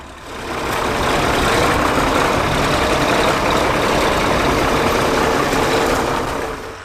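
A County 1174 tractor working while ploughing at a classic working event, its heavy diesel engine giving a steady, loud, continuous drone that holds at full strength and eases slightly at the end, with no voices.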